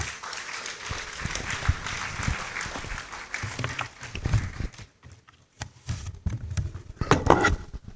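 An audience at a pharmacy school white coat ceremony welcomes a speaker with a round of applause, a rough patter of hands that fades almost to silence midway, then returns in scattered bursts.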